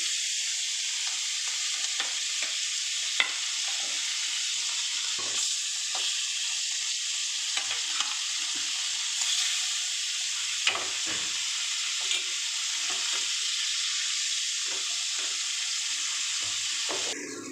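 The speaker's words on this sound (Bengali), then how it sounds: "এবার আমি ইলিশ মাছগুলোকে ভেজে নেবো" Pieces of hilsa fish fry in a pan with a continuous, even hiss of hot oil, with occasional soft pops and faint clinks over a long stretch.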